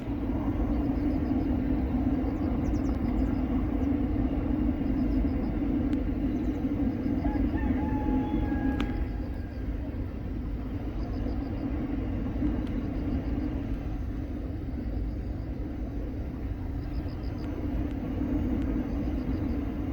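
A chili pepper dryer hums in a steady, continuous mechanical drone outdoors, with a faint high chirp briefly rising partway through.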